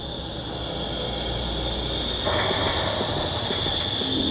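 A cricket struggles in the elastic silk of a net-casting spider's web at night, heard as a steady, fairly loud insect chirring drone with faint rustling, no voices.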